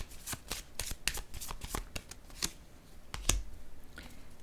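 Tarot cards being shuffled and laid down on a surface, a close series of crisp riffling flicks and slaps in an uneven rhythm, with one heavier thump toward the end and no talking.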